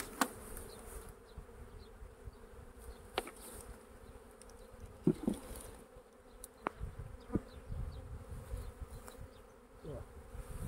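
Steady, dense buzzing of many honeybees close by at an open hive, with occasional louder passes and light clicks of handling throughout.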